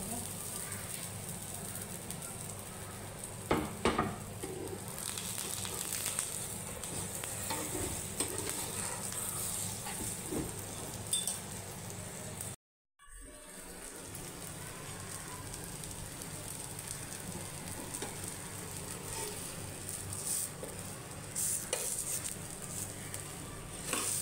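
Pea paratha thalipeeth frying in a little oil on a pan, a continuous soft crackling sizzle with light scraping, cut by a brief silent gap midway.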